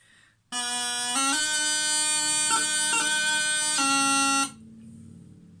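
A single bagpipe plays a few sustained notes over its steady drone, with quick grace-note flicks between pitches, loud and close, then stops.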